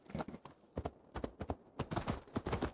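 A horse trotting closer in Assassin's Creed Valhalla, quiet rhythmic hoof clip-clops in uneven pairs and bursts, picking up toward the end with no voices over them.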